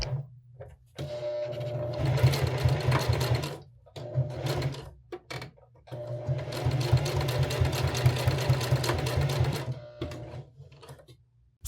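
A sewing machine runs two long bursts stitching a straight line through nylon webbing for a taco pouch, its rapid needle hammering steady and close, separated by short pauses.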